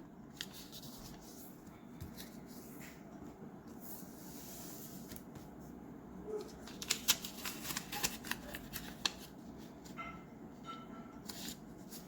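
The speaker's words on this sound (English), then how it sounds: "So you fold all 4 corners of the paper." Paper corners being folded for an origami tulip give faint crinkles and soft creases, growing into a few sharper crisp rustles near the end, close and quiet.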